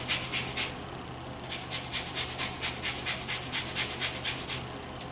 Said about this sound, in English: I'm going to go ahead and zest the rest of my orange here.